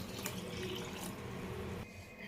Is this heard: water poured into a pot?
yes